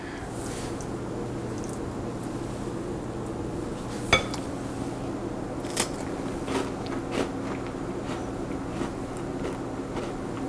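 A cracker topped with smoked fish dip is bitten and chewed close to the microphone, a few sharp crunches spaced over several seconds above a low steady room hum.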